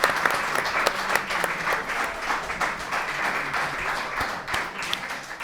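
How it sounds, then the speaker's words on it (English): An audience at a startup accelerator final presentations event claps for a presenting team, a steady round of applause with sharp individual claps standing out, some quiet crowd sounds underneath. "All right, round of applause."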